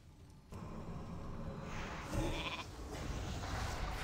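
A sheep bleat from a polymorph spell in World of Warcraft Cataclysm, rising partway through amid dense game effects and clatter, moderately loud throughout.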